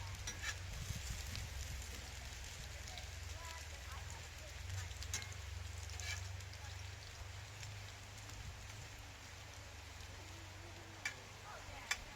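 French fries frying in hot oil at a family night cookout, a steady broadband sizzle running throughout with a low rumble beneath and a couple of sharp pops near the end.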